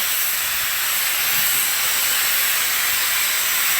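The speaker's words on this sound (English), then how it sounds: "so it's actually a really small steam engine." Loud continuous steam hiss from a small 25-horsepower steam engine, a steady bright rushing sound close by, with no voices.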